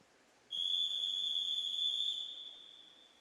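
Starting whistle at a junior swimming heat in Glasgow: a single sustained shrill blast held for about two seconds, then fading, loud and clear over faint poolside ambience.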